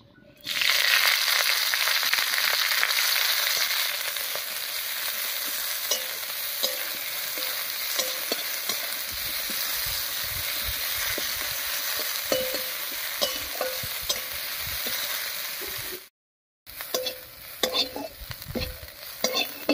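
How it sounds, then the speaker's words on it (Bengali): Chopped onion and slit green chillies fry in a little mustard oil, a steady close sizzle with scraping stir clatter throughout, cut by a brief silent gap near the end before the frying resumes. "আর এই তেলের মধ্যেই দেবো বেশ খানিকটা পেঁয়াজ কুচি আর কয়েকটা চেরা কাঁচা লঙ্কা।"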